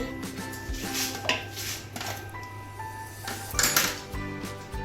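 Flour and baking powder are stirred into banana cake batter in a mixing bowl, with soft, uneven scraping and clinking of a utensil against the bowl, quiet and close with a few sharper taps.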